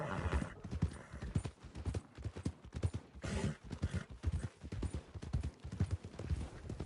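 Horse hooves clip-clopping steadily at a walk in Red Dead Redemption 2, a close, even rhythm of hoofbeats that runs the whole time, with a faint neigh and brief background voice.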